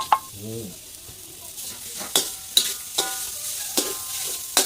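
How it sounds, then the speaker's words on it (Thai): Minced pork stir-fries in oil for a roasted chili paste dish, a bright continuous sizzle with regular spatula scrapes and knocks against the pan about every half second, close and alone. "หมูลงไปคั่ว"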